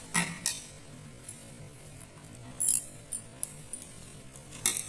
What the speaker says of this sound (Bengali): এবার মিক্সিং জার নিয়েছি মিক্সিং জারের মধ্যে আমি পেস্ট করে নেব পেঁয়াজ